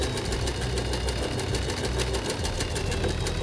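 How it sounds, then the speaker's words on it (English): Sewing machine stitching a buttonhole in an organza blouse, a steady rapid mechanical whirr with a fast needle rhythm running continuously and fairly loud throughout. "I take a breath, focus, and carefully sew the buttonhole."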